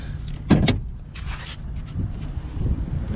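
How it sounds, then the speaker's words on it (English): A car's hood being released and popped open, a few sharp clunks and latch clicks close by followed by a brief rattle, with faint wind and outdoor ambience. "I'll pop the hood on mine."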